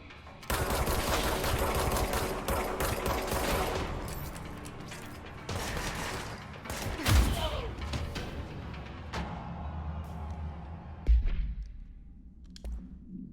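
Bursts of gunfire from the service weapon in the video game Control, loud and dense at the start, then scattered heavy impacts and crashes with game background noise.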